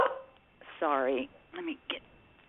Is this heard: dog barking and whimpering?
yes